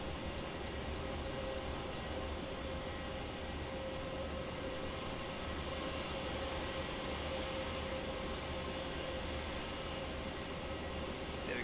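An airliner lands on runway 16 at Melbourne Airport, Australia, its steady broad engine roar droning at a moderate distance throughout, unbroken and without voices.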